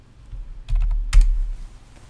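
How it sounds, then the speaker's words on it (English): A short burst of a few keystrokes on a computer keyboard, close and clear, with a sharper final key tap. "So we're gonna type 33 here."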